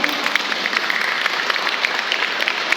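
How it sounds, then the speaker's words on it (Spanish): Brief burst of dense congregational clapping in a church, even and sustained for the whole short stretch. "Un aplauso al Señor, aleluya."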